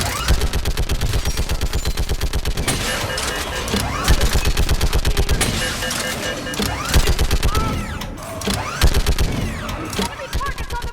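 A firefight in Mass Effect 3 with long, loud bursts of rapid automatic gunfire that stop and start again, close up and dense, with voices shouting briefly between the volleys.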